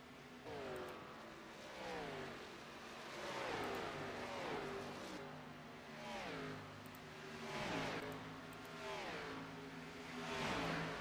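Several race cars from an Xfinity Series sim racing game at Texas roar past on the final lap, engines rising and falling in repeated pitch sweeps as cars pass close by in steady succession.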